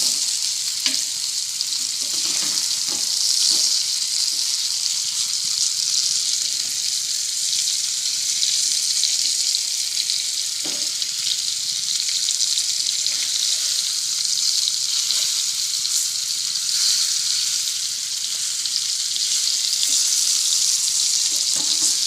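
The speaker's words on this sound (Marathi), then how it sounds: "आता मच्छी 5 मिनिटं झालेली आहेत, आपण मच्छी पलटी करून घेऊया।" Surmai fish frying in hot oil in a pan after being flipped, a steady loud hiss and crackle of sizzling throughout with a few faint clinks.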